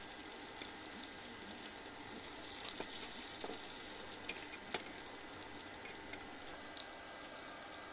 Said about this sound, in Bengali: পকোড়াগুলো আমি এরকম উল্টে পাল্টে ভেজে নেব